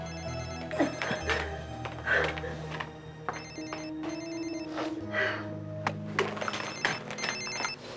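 A telephone rings in repeated electronic bursts, trilling in short regular groups over a background of soft music in an indoor drama scene.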